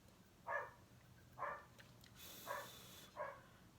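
A dog barks four times in a backyard at a slow, regular pace, sounding distant and fairly faint over a low background hum.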